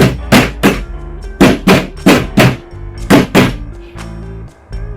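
A wall garden planter unit is tapped down into place with a series of firm, hollow thunks, about a dozen close knocks in uneven pairs and groups.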